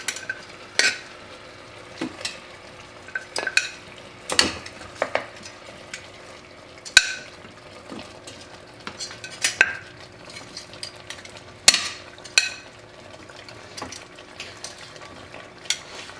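Beef short ribs placed back into liquid in an Instant Pot, heard as scattered clinks, scrapes and soft splashes with a light sizzle underneath, irregular and close by.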